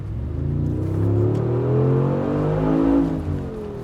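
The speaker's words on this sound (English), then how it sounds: "The G63 also features a 4-liter bi-turbo V8," A 2019 Mercedes-AMG G63's hand-built 4-liter bi-turbo V8 revs hard, a deep, loud, rumbling engine note that climbs and swells steadily, then eases slightly at the close.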